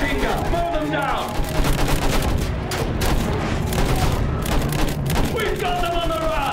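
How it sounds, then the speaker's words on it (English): Battlefield 1 machine gun fire rattles in continuous rapid bursts, loud and close, with shouted voices and battlefield din mixed in throughout. "Use that machine gun! Mow them down!"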